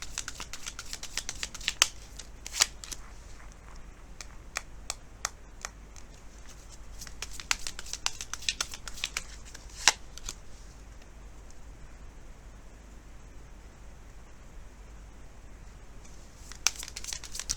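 Tarot cards being shuffled and handled, with soft papery riffling and sharp crisp snaps at irregular intervals, close and fairly quiet against a low steady hum.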